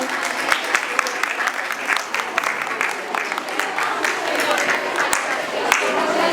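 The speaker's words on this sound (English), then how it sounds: "please give a huge round of applause for our winner." Steady applause from a crowd at a Science Day event for a winner, dense clapping sustained throughout with a few louder individual claps standing out, under faint background voices.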